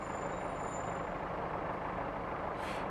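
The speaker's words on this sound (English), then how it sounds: "We'll start braking for the station" A Class 143 diesel train on the Riviera Line brakes for a station, a loud, continuous rumbling roar with a brief hiss near the end.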